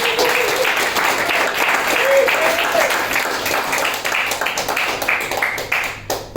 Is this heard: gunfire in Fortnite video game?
no